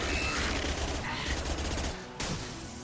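Rapid sustained gunfire in the sci-fi shooter Mass Effect 2, a dense continuous barrage of shots that cuts off abruptly near the end.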